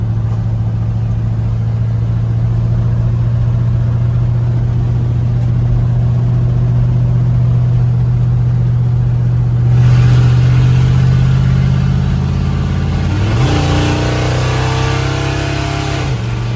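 A 1985 Dodge D100 pickup drives with a loud, unmuffled exhaust, its steady low engine drone holding near and constant before the pitch shifts as it changes speed near the end.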